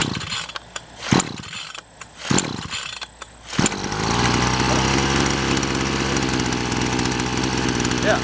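A Baokaler GRM520 52cc two-stroke brush cutter gets several sharp pull-cord tugs, then fires and settles into a loud, steady buzzing idle close by.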